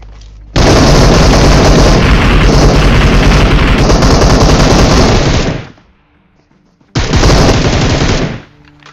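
Sustained, very loud automatic fire from M416 and M762 rifles in PUBG, a long continuous burst, a brief pause, then a second shorter burst, close and dense with no talk over it.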